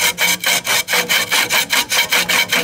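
A hand saw blade cuts a curve in wood clamped in a vise, loud close rasping strokes in a steady back-and-forth rhythm, roughly four strokes per second, with no talking.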